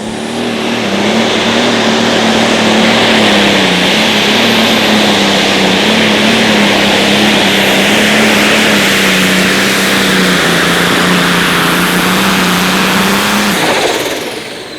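A John Deere light super stock pulling tractor at a Friday night outlaw pull in Wisner, Nebraska, its engine held at a loud, steady, droning roar for about fourteen seconds before cutting off abruptly.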